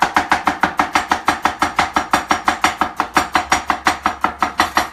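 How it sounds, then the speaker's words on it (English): A knife julienne-cuts vegetables very fast on a board, producing a rapid, steady train of sharp, evenly spaced chops, close and loud with no talking. "Then you go ahead with your julienne, right? You want to go fast, fast."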